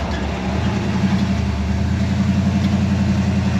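A 1978 Ford F100 truck engine running steadily while driving on a tar road, a loud continuous low rumble with a rhythmic throb that holds even throughout.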